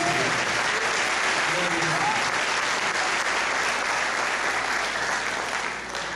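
A church congregation claps in sustained, dense applause, even and loud throughout, easing slightly just before the end.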